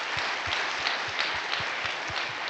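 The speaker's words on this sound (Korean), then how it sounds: "여러분들의 이 정말 따뜻한 박수처럼" Warm applause from a seated audience celebrating newborn babies, a moderate continuous patter of many hands with a few sharper individual claps standing out in a regular rhythm.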